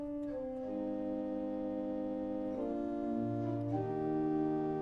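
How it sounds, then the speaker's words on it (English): A principal stop on a 1930 Skinner pipe organ in St. James Episcopal Church, Leesburg, plays sustained, richly harmonic notes that change pitch in a slow sequence, clear and alone without speech. "Principal stop sounds like this."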